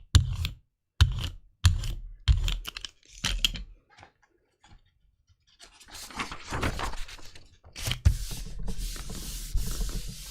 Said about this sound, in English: Just going to brayer that on so I can pull up these colors.